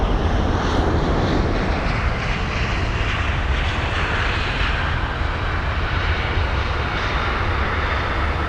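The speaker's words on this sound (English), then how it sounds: "the Etihad 380 just joining the queue now" An Etihad Airbus A380 airliner taxiing and joining the departure queue at Heathrow, a steady loud engine roar with broadband rumble and hiss holding constant throughout, no voices.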